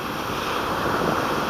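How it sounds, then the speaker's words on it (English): Wind gusting at a beach in Lake Worth, Florida, a steady broadband rush of air buffeting the microphone, loud and continuous with possible surf underneath, no talk. "A little windy."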